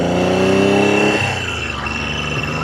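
A 1975 Triumph Trident T160 motorcycle engine with a 5-speed transmission and electric start revs loudly and close. Its buzzing, harmonic-rich note holds high, then drops back toward a lower, throbbing idle.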